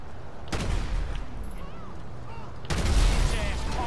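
Repeated bursts of gunfire with explosive bullets from a GTA 5 cheat, loud and close, with a heavy booming impact near the end and a voice talking underneath.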